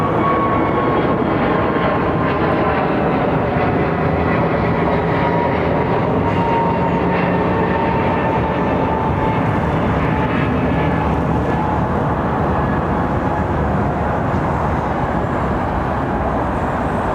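A big airliner with folding wingtips rumbles steadily at Heathrow, its broad engine roar loud and constant all the way through, with no voices over it.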